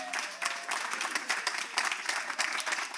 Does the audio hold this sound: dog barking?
no